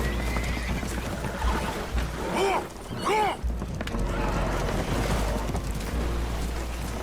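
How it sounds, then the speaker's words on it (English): Spooked horses on a damaged, leaking boat in the game Red Dead Redemption 2, with two loud whinnies in quick succession amid splashing water and clattering hooves. "Horses are spooked"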